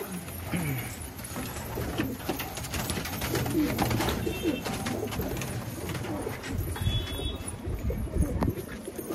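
Pigeons in a coop coo and rustle continuously at close range, forming a dense, steady murmur of bird sounds with a few brief higher chirps.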